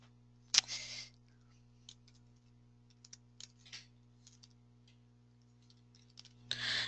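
Keys on a computer keyboard are tapped faintly and sparsely as a name is entered into office software, with a few sharper clicks in a quiet room under a low electrical hum.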